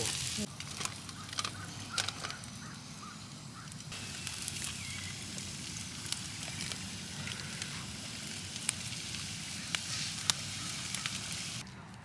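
Chicken and vegetables sizzle on a grill in a soft, steady hiss with small crackles, fairly faint throughout.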